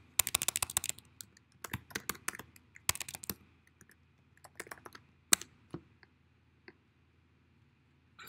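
Someone types on a computer keyboard in short, uneven bursts of sharp, close clicks separated by pauses, in a quiet room.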